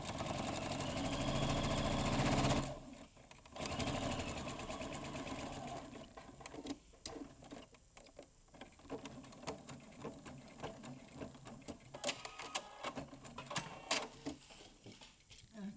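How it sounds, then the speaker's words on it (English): A sewing machine stitches a seam on a rice bag style gift bag, first a loud steady whir for a couple of seconds, then short bursts of clattering stitches and handling knocks, with quiet talk in between. "we're going to sew right up to this"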